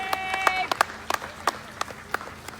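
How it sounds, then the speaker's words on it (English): A sparse few claps ring out from an audience at a political event: separate sharp hand claps, scattered and uneven, fairly quiet over a low background hum. "Let's give him a round of applause."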